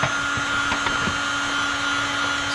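A heat gun blows steadily over gloss black vinyl wrap on a truck to shrink out wrinkles, a close continuous whooshing roar with a high fan whine and no break.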